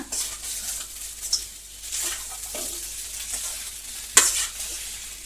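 A potato filling with chopped coriander for samosas is stirred in a pan, giving a soft sizzle broken by repeated close scraping strokes and one sharp clink near the end.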